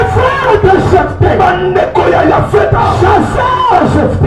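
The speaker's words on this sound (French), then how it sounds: "Encouragement avec des acclamations, des cris de joie." A crowd cheers and shouts with joy, loud overlapping yells and whoops sustained throughout, close and dense.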